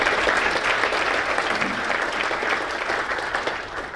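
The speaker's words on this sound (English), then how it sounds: "So a round of applause for all of that." Sustained applause from an audience at a December general members' meeting, a dense even wash of clapping that holds steady for the whole stretch and tapers slightly at the end.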